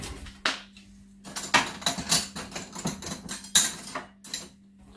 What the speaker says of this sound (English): And I take a spoon.